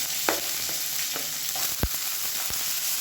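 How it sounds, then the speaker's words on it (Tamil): Chopped onions sizzling as they fry in a pan for a South Indian side dish, a steady loud hiss with a few sharp stirring clinks and scrapes. "இந்த ஸ்டேஜில் ஒரு கைப்பிடி வெங்காயம் சேர்த்துக்கலாம்."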